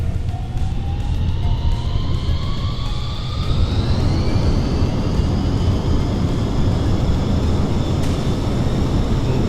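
A fighter jet in Kerbal Space Program rolls down the runway on takeoff, a loud steady engine roar with a rising whine that climbs in pitch and then holds, with no talking over it.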